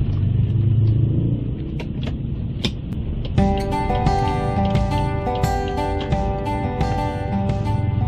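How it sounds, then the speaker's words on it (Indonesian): A 2002 Toyota Kijang LGX engine rumbles from inside the cabin as the vehicle moves off, a steady low drone with clicks and a brighter hum joining partway through. "sekarang kita akan coba jalan dengan Toyota Kijang LGX ini"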